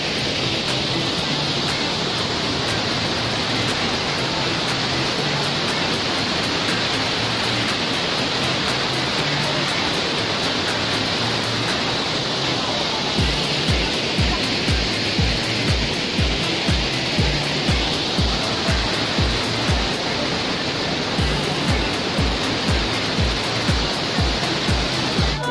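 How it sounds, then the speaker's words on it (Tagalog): Shifen main waterfall in Taiwan roars as a steady, loud broadband rush of falling water, continuous throughout with no talk over it. "Guys, nandito tayo ngayon sa Shippens main waterfalls."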